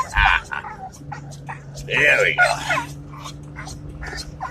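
An excited dog whimpers and yips in short bursts while riding to the dog park, close by, with people talking over and between the cries.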